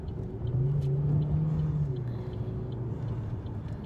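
Steady low rumble of a car engine fitted with an aftermarket intake while driving, a moderate drone that swells briefly near the start then settles, with faint road and interior noise and no speech.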